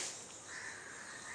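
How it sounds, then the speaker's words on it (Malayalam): A nearby crow, waiting for food, gives a faint, drawn-out caw that is quiet and short. "കാക്ക അപ്പോൾ എന്നെ കാണാനായിട്ട് വന്നിരിക്കുക ഇത്രയും നേരമായിട്ട് അവൻ അവിടെ കാത്തിരിക്കേ കൊടുക്കാത്ത കൊണ്ട് കരയുന്നു"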